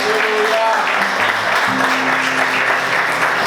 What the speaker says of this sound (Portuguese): Vamos aplaudir bem forte